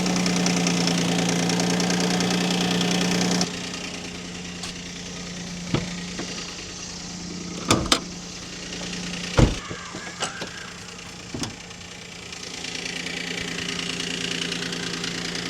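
A car engine idles steadily after being jump started with a portable lithium jump starter, a continuous low hum with a few sharp knocks and clicks scattered through the middle, close by and with no talking.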